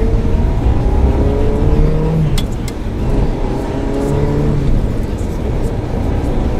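A Ferrari F355 Berlinetta engine drones loudly from inside the car while driving and cornering, its pitch sliding down and rising again as the throttle is eased and reapplied.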